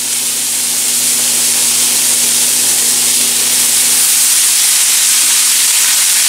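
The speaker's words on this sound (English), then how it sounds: "I'm going to drop a little bit of water in here for the steam value, so that basically the water will steam the veggies." Water splashed into a hot pan of vegetables sends up a loud, steady steaming hiss that holds evenly for several seconds, with a faint low hum beneath and no talking.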